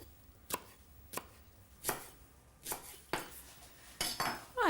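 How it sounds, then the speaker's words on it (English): Knife finely slicing spring onion on a board, six or so crisp chopping taps at an uneven pace, quiet and close, the last strokes quicker and followed by a brief scrape. "And spring onion as finely sliced as you can muster."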